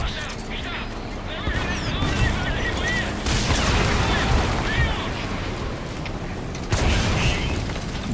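A tank is destroyed in Metal Gear Solid 5, with loud booming blasts, crashing debris and mechanical clatter over dense battle noise, a fresh burst near the end, and voices talking over it.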